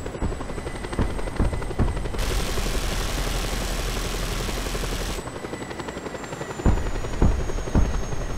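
A helicopter in the video game Just Cause 2 multiplayer thumps with a loud, steady rotor chop and engine whine, close and continuous, with a few sharp impacts or shots punctuating it.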